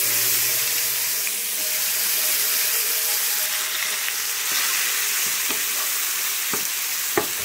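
Chopped onion fries briskly in mustard oil for shorshe ilish, a loud continuous sizzle with soft stirring scrapes and a few sharp clicks near the end, with no voices.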